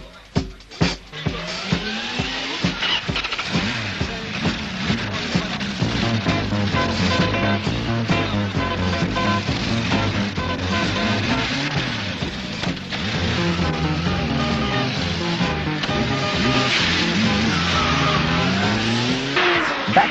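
A Kawasaki GPz 750 Turbo motorcycle ridden hard on a track, its engine revving and climbing through the gears in rising and falling sweeps, loud and continuous for the whole stretch.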